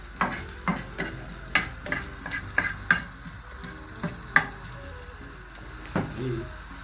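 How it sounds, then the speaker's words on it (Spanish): Chicken pieces, rubbed with ginger, browning in a pan for Peruvian chicken fried rice (chaufa): a steady close sizzle with repeated sharp clacks of a utensil stirring and scraping the pan, no talking. "Vamos a dorar un poco, que agarre color."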